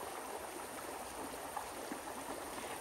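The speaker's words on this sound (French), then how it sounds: "Ce bruit de l'eau en fait." Outdoor stream water flows in a continuous, soft, distant rush with faint gurgles, steady and unbroken throughout.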